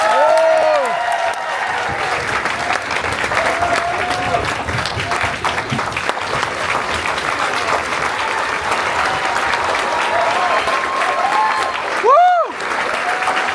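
A festival audience in Cannes applauding to welcome Tilda Swinton, sustained dense clapping from a large crowd with whistles and cheers rising over it, loud and close throughout.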